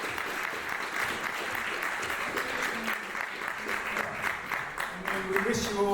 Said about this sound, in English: Perhaps we can give them a round of applause.